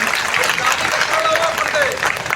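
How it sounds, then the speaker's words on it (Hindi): Crowd applause welcomes a speaker at a political rally in Azamgarh, a dense burst of clapping from a large outdoor gathering with music or amplified sound underneath. "जोरदार ताली बना के स्वागत करा, ताली बजा के"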